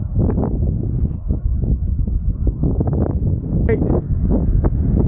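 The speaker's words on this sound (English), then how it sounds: "The wind has been in my face all the way back. Such is life. Quite strong too." Strong headwind buffeting the microphone while cycling in Uruguay, a loud, continuous low roar with gusty swells and someone talking over it.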